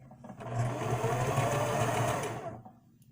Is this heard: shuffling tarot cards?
no